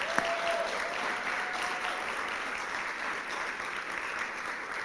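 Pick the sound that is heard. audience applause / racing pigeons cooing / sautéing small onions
audience applause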